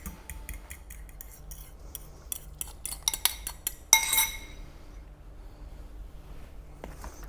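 Chicken salad mixed in a bowl with utensils, a run of quick light metallic clinks and scrapes that ends in a louder burst, then near silence.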